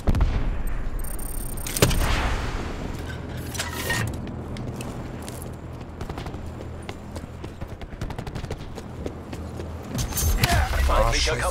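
Enemy turret gunfire in Call of Duty Black Ops 4, a rapid, uneven clatter of sharp shots and mechanical clicks, with louder bursts at the start and end, under game sounds and voices.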